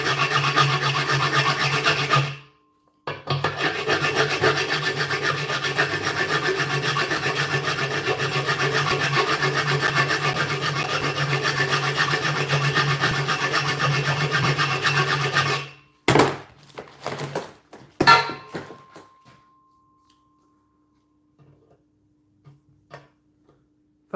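A hand file rasps steadily across stainless steel in long continuous strokes, close and fairly loud, then breaks off into a few short scrapes and clicks before silence.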